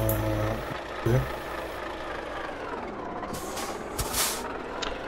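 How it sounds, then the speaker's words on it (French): A truck in the Euro Truck Simulator 2 game sits with its engine idling while the handbrake goes on, letting out a short burst of air-brake hiss, then scattered hissing releases over a low engine hum. "là le camion il a fait un bruit bizarre parce qu'en fait au lieu d'avoir freiné complètement, j'ai mis le frein à main"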